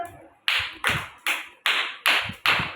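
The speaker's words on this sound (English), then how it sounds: "Claps కొట్టండి అందరూ" Children at an anganwadi clapping together in six sharp, evenly spaced bursts, loud and close with no talk over them.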